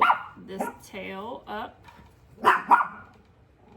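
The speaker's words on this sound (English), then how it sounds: "That's my dog." Pet dog barks and yips in short bursts close by, mixed in with a person talking over it.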